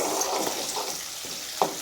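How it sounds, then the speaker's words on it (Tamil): Small sambar onions sauté in a pan, giving a steady, moderate sizzle with faint stirring scrapes and one brief sharper clink near the end. "நல்லா இது வதங்கட்டும்."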